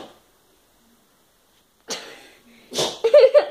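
A sneeze comes after near silence, with a sharp breathy burst at about two seconds and a louder one near 2.8 seconds. A short voiced sound follows at the end.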